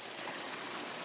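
Water from a backyard pool waterfall splashes steadily in a continuous close hiss, with no voices over it.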